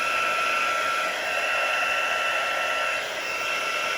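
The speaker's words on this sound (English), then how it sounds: "let's do some of our heating from behind so that we're not warping our cardstock" A heat tool blows steadily on cardstock while drying a fall card, a loud continuous whirring hiss with a high motor whine that holds for the whole stretch.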